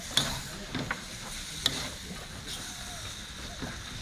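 Pad see ew stir-frying in a hot wok with steady sizzle and hiss, punctuated by a few sharp clanks of the spatula against the pan, while people talk faintly nearby.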